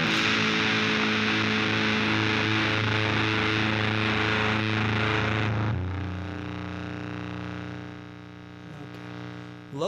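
A guitar played through a heavy distortion pedal rings out as a thick, saturated sustained chord, loud and dense. It thins abruptly partway through and decays with a droning hum, with no talk.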